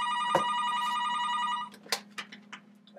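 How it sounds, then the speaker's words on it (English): An old-style telephone bell rings loudly and steadily for about a second and a half, then cuts off, leaving scattered faint knocks and rustles in a quiet room. "Telephone is ringing."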